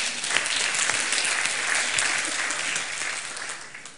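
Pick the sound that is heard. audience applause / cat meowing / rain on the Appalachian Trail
audience applause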